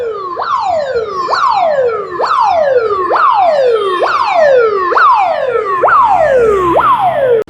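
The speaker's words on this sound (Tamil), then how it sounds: "ஆம்புலன்ஸ் வந்து இங்கே நேர் ஆம்புலன்ஸ் பாருங்க." An ambulance siren wails loudly and close by, its pitch jumping up and gliding down again in a fast, repeating cycle about eight times.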